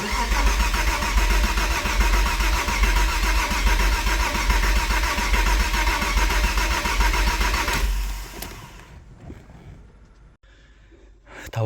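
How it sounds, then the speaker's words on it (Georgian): A Porsche engine cranks and fires, its loud broadband roar running steadily for about eight seconds before cutting off into near quiet. "დავატრიალე მეგობრებო, როგორც ნახეთ, რამოდენიმეჯერ ძრავი"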